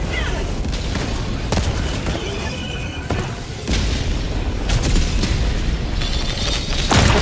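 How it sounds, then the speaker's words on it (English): Deep booming blasts and gunfire rumble through a Helldivers 2 firefight after a grenade is thrown, loud and dense, with heavy explosions standing out over continuous battle noise. "Throwing grenade!"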